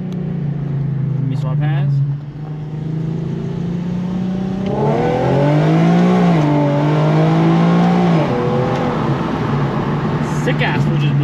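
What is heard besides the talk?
boosted Nissan 350z downshifting, engine revving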